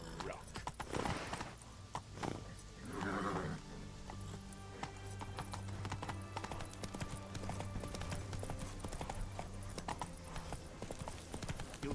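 Horse galloping in the video game Witcher 3, a rapid, steady clip-clop of hooves close by that runs the whole time, with a short whinny and game sounds in the background.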